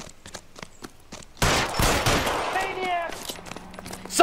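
Gunfire in the video game L.A. Noire: a dense, loud burst of shots erupts after a quiet stretch and rings on with echoes and debris, with a voice heard faintly before it.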